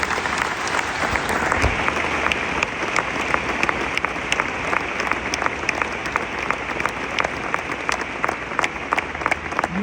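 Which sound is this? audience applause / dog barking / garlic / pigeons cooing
audience applause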